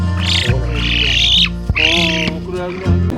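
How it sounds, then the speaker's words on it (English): Calls of a rescued spoon-billed bird, loud and close: two long, warbling whistled phrases with a brief pause between them, followed by a short sharp note over a low background hum. "the bird recognized his savior with just a call"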